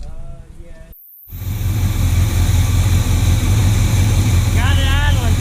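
A Chevy C10 small-block V8 with a vacuum leak and spark knock settles into a steady, loud idle after a brief silence, its low rumble continuous and close, with a short burst of speech near the end.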